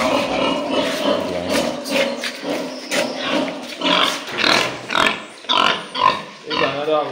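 Pigs and piglets on a pig farm grunting and oinking close by in a busy, continuous chorus, with rhythmic snorts growing louder toward the end and a voice talking partly over them.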